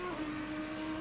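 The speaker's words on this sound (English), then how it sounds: "unleashes all of his Audi horsepower from the V10, lovely sound engine" Audi V10 race car engine in Assetto Corsa Competizione wails at steady high revs, a sustained sharp tone with no talk over it.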